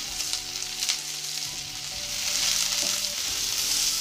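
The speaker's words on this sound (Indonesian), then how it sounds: "Bawang putih dan jahe tumis harum ya teman-teman, lalu masukkan bawang bombay, kemudian cabai hijau dan cabai merah besar, diaduk rata, ditumis-tumis." Garlic, ginger, onion and green and red chilies sizzle and crackle steadily in a hot frying pan while being stirred, a close, continuous hiss with occasional scraping, swelling slightly louder midway, with a faint hum beneath and no talking.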